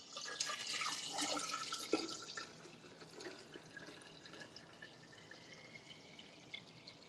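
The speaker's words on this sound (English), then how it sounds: "gonna add that water" Water pours into a mixture of lemon juice and agave, a steady close splashing trickle that is strongest at first and then softens into a light continuous flow.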